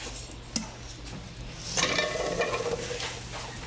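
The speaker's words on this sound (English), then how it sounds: "So we're going to put the potatoes back into the pot." Cooked potatoes being put back into a pot, with a soft clunk early on followed by a burst of scraping, rattling contact against the pot that tapers into quieter shuffling, no speech.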